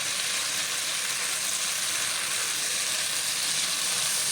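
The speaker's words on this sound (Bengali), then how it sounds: "আমি কষে নেব।" Spice paste fries in a pan with a dense, even hiss that stays loud and unbroken throughout, close up with no voices.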